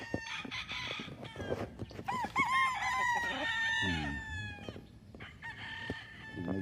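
Roosters on a gamefowl breeding farm in Lipa City, Batangas, several nearby birds crowing in overlapping calls mixed with clucking, fairly close, with a voice faintly in the background.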